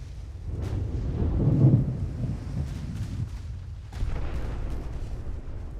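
Heavy naval gunfire in the warship game Ultimate Admiral: Dreadnoughts, a battleship engagement rumbling as deep low booms and sustained thunderous roar, with a swell near the middle and another dull report later.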